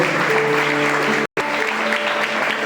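A youth conference audience claps together in thanks, dense steady applause filling the hall, with a brief cut of silence midway before the clapping resumes.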